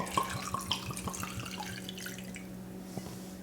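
Beer glugs and splashes into a glass in a short, close pour, a quick run of bubbly gurgles that settles into a quieter fizz.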